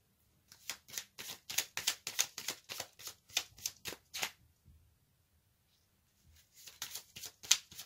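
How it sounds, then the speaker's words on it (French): Tarot cards are shuffled in quick, crisp riffling bursts close by, then fall silent for a moment before a shorter run of card handling as one is drawn. "Je vais tirer une carte supplémentaire pour compléter cette énergie."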